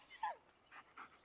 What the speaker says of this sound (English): Listen to his barking and watch his body language.